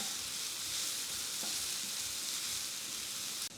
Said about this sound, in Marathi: याचबरोबर थोडेसे तीळ आपण घालू एक चमचाभर खसखस याला छान लालसर परतून घ्यायचं